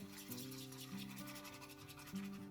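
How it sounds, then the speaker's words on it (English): A spatula scraping and stirring thick puréed wax inside a container, a close continuous rubbing and scraping with shifting tones, no talk. "Just scrape the edges here. Just give it a good mix here."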